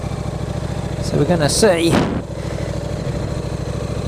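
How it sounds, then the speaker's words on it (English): A KTM RC8 motorcycle on a test ride, its raw engine note running steadily underneath while someone talks over it midway, the engine continuing alone afterward. "It's quite a raw sounding engine, this."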